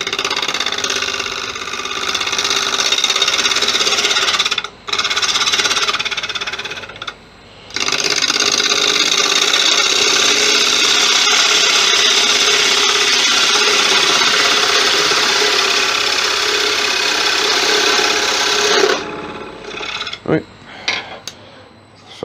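A woodturning lathe lightly faces off a wooden heart dish, a loud steady whir with cutting noise that runs for long stretches, broken by short pauses and a few knocks near the end.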